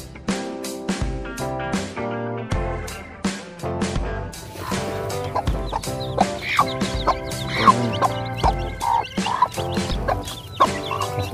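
Chickens on a rural provincial farm cluck and squawk while being fed, with overlapping calls rising and falling in short bursts, close and loud.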